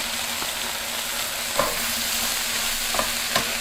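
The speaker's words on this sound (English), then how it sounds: "Now add the spinach and cook until no liquid." Spinach cooks down in a hot pan with a soft, steady sizzle, a faint hum beneath it and a few light taps of a utensil.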